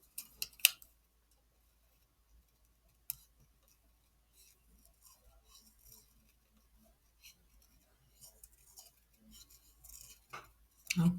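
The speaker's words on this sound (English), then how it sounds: "I'll use my small scissors to do the fussy cutting around the wishes." Small scissors snip paper in quiet, scattered bursts of light clicks and crisp cuts, with pauses between them.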